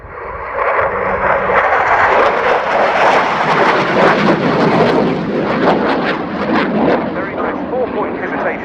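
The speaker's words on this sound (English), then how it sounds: "The aircraft being flown by Major Peter Fallian, call sign Starbutt" A Swedish Air Force SAAB Gripen jet flies a display at an airshow, a loud, sustained roaring rumble building and passing overhead while a commentator talks over it.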